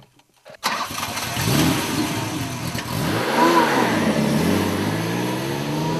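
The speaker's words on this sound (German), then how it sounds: "Der Motor springt immer auf Anhieb an." A BMW M1 engine cranks after a moment of quiet, catches at once and rises into a loud, close revving roar before settling into a steady, throbbing idle.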